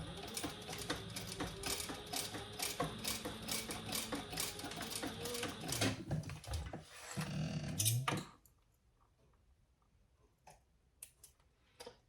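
A sewing machine top stitches thick vinyl with mauve thread, running in a rapid, even mechanical rattle for about eight seconds before stopping abruptly, leaving near silence with a few faint clicks.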